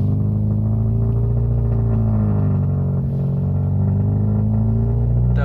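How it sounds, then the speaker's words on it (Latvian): A car fitted with an LPG gas system idles steadily just after starting, a loud, continuous low engine rumble with no change in pace and no talking. "Kā jūs dzirdat, es piedarbināju automašīnu."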